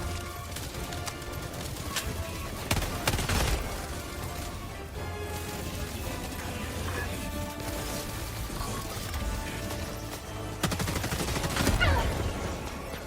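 Gunfire from the video game Helldivers 2 rattles in continuous bursts of automatic fire, loud and dense with heavier volleys near the start and end.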